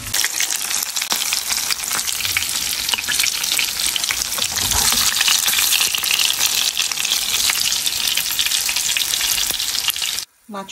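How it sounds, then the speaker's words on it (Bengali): Rohu fish and onions frying in hot oil in a pan give a steady, dense sizzle with stirring crackles. It runs loud and unbroken for about ten seconds, then cuts off abruptly, with no talk. "এখানে পেঁয়াজগুলো ভেজে নিব এটা মাছের মশলা"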